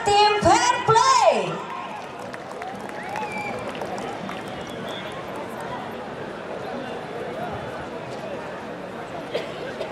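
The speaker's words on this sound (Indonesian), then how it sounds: "Sekali lagi boleh berikan tepuk tangan yang paling mulia." An audience applauds at the Liga 2 2023/24 football awards ceremony as PSBS Biak receives the Fair Play team award. A brief voiced sound opens the clip, then steady, even clapping continues for several seconds.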